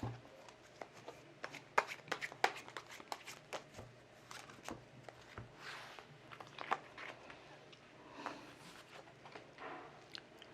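A tarot deck is shuffled close by, with quiet papery riffles, irregular crisp card slaps and taps and soft handling noises, faint and with no speech.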